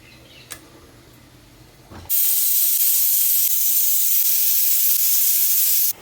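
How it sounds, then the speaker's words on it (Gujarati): Pressure cooker boiling chickpeas lets off steam, a faint background hum suddenly giving way to a loud, sustained whistling hiss that holds steadily for about four seconds before stopping abruptly. "5 સીટી વાગી ગઈ છે છોલેની."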